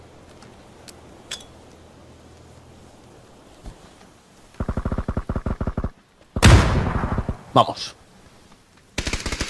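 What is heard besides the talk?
gunfire in a video game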